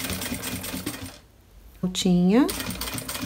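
A sewing machine stitches bias binding onto a compact travel jewelry case, running in quick rattling bursts before and after a brief pause, while someone speaks over it nearby.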